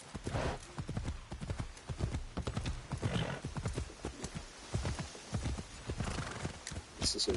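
Horse hooves clip-clop in a steady rhythm along a path in Assassin's Creed Shadows, with a neigh rising near the end, close and clear and with no talk.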